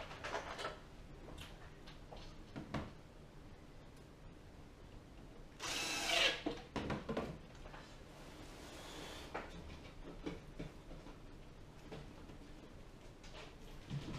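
Power drill driving screws into the corners of an artificial hedge panel, a faint, low workshop scene with a brief whirring burst in the middle and scattered clicks and handling knocks around it.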